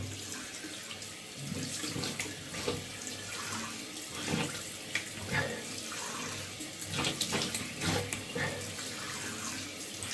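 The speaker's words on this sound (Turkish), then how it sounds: "Şimdi yüzümü yıkıyorum." Tap water runs steadily into a sink while a face is rinsed in a bathroom during a classic shave routine, with uneven splashes and handfuls of water breaking the constant flow, close and with no talking.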